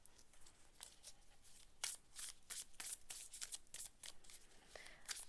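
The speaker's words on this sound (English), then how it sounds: "I'm going to shuffle some Pokemon cards now, and these sleeves shuffle so beautifully" Sleeved Pokémon cards are shuffled close up, giving quiet, crisp riffling bursts in quick succession with brief pauses between them and no speech.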